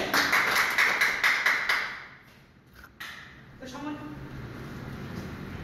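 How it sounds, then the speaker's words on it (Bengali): An audience at a branch meeting gives a short burst of rhythmic applause for a leader, about two seconds of quick, even claps before a voice speaks over the room. "আমাদের এই স্যারের জন্য একটা তালি হবে জুড়ে।"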